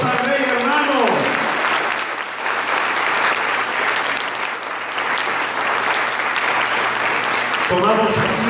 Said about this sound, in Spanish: Dale fuerte tus aplausos al Rey, hermano.